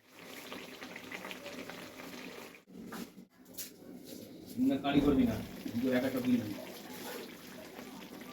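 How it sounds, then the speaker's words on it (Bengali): Fish curry broth boils in a pan with a steady, soft bubbling hiss that runs throughout, while a voice talks over it in the middle and latter part. "দেখুন ঝোলটা আমার ফুটে গেছে।"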